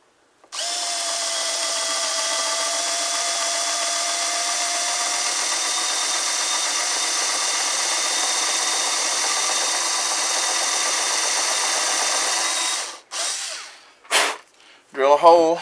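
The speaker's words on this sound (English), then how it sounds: "Drill a hole down into the wood." A power drill bores a hole into wood while building a Kadet LT 40 trainer model airplane, a steady close whine running for about twelve seconds before stopping, followed by brief mechanical sounds and a short spoken phrase.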